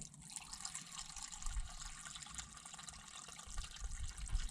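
Water pouring steadily into a measuring cup at a camp, a continuous splashing, gurgling stream, fairly close and moderately quiet, with no talking.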